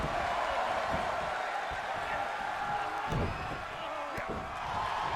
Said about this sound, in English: Half of them are chanting for Taker and half of them are chanting for Balor.